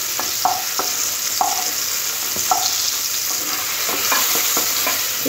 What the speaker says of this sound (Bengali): ঝিঙেগুলো দেখুন এরকম হালকা ভেজে নিয়েছি।